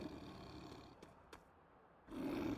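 A Frost Giant in a Lego Marvel superhero game gives a low growling roar, fading into a quieter stretch with a couple of brief clicks, then a second roar bursts in loudly near the end.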